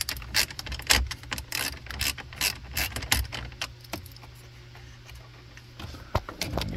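A socket ratchet backs out 7mm screws on a 2017 Jeep Grand Cherokee, giving quick close clicking bursts with a few metallic taps and a quieter pause before the ratcheting resumes.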